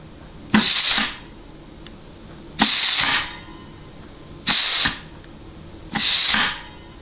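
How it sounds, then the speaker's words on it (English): Compressed air hisses through a nozzle while testing the overdrive clutch of a GM 200-4R transmission during rebuild, four loud bursts of about half a second each spaced evenly, with quiet between them. "I'm getting a lot of air back feeding through this nozzle"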